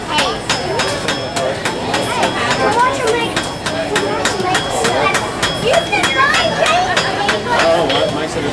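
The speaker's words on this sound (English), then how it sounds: "So I can hammer on the sharp edges and then just rotate it under the hammer." A blacksmith at a forge works a hot steel leaf stem under a power hammer, producing rapid, regular metallic strikes in a steady rhythm, loud and close, with people talking in the background.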